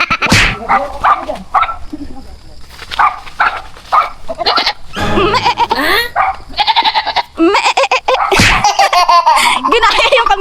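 A person mimics a goat's bleat in a string of loud, wavering cries, with laughter and chatter mixed in close by.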